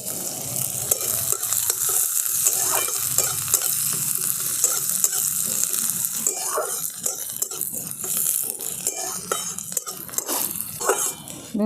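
Chopped onion dropped into hot oil already tempered with whole cumin and dried red chili, a steady loud sizzle with the scrape and clatter of a spatula stirring the pan; the frying sharpens partway through.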